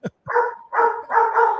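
A dog barks three times in quick succession, close and fairly loud, with a short yip at the start.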